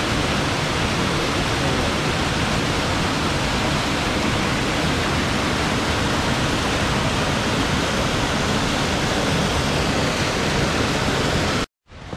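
The Menzenschwand waterfall near St. Blasien in the Black Forest rushes in a loud, close, unbroken roar of falling water that fills the whole stretch before it cuts off abruptly at the end.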